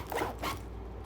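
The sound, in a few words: zipper of a PU bag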